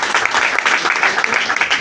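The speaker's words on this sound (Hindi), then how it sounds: "एक शानदार ताली होनी चाहिए हमारे सभी गुरुजी के लिए" A crowd at an event honouring the gurus breaks into applause, a dense, steady wash of many hands clapping close by, with no speech over it.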